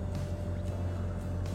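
Sailboat motoring under engine across a glassy calm sea, a steady low diesel drone running continuously with faint water hiss above it.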